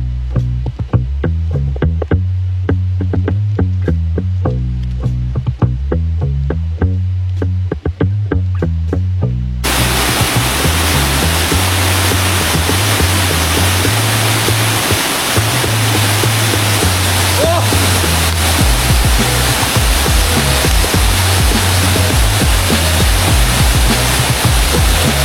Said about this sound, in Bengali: ঝরঝরি ঝর্ণার যে মূল ঝর্ণাটা, এটা আমরা এই যে আইসা পড়লাম।